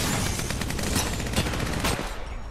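Sustained, dense gunfire in Apex Legends, loud and close, with rapid overlapping blasts filling about two seconds before cutting off.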